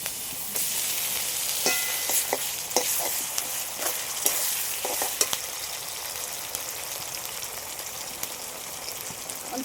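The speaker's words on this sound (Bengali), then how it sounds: "পেঁয়াজগুলো তো একটু হালকা করে ভেজে নিয়েছি এবার আদা রসুন বাটাটা দিয়ে দিচ্ছি" Ginger garlic paste frying with onions for a pepper chicken, a bright, loud, continuous sizzle with quick scraping stir strokes clustered early, heard up close without voices.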